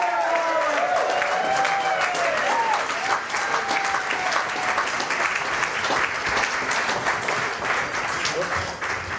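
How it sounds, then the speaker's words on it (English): A gala dinner audience applauds Simon Clark, dense sustained clapping filling the room for several seconds at a steady level, with a few voices and whistles mixed in. "Please give a warm hand of applause for Mr."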